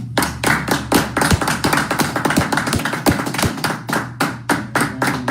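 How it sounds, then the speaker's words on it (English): An audience at a Wednesday night class in Trinidad claps in loud, close, rhythmic unison, sharp regular hand claps repeating steadily from start to finish with no talk. "Yeah, go ahead and clap it up."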